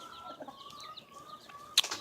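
A rooster clucking softly in a backyard flock, a few low murmured clucks followed by a brief louder squawk near the end, fairly close with quiet surroundings.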